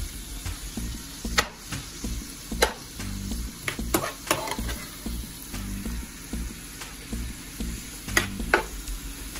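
Mushrooms stirred and sizzling in hot coconut oil, a steady fry with repeated sharp scraping and clatter of the stirring utensil, close and alone with no voices.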